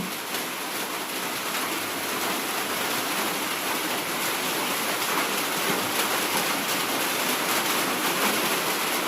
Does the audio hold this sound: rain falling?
yes